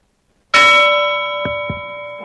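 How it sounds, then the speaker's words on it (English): A sharp bell ding rings out once after a moment of silence, then sustains with a long ringing decay while a couple of soft knocks sound underneath. "That's a bell ding sound effect from YouTube."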